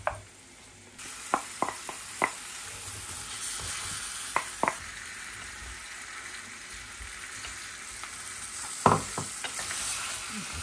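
Onions and minced meat fry in a pan under a steady sizzle, with a handful of distinct scrapes and taps from a spatula as they are stirred, close and fairly loud.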